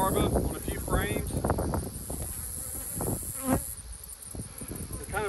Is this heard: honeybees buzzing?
yes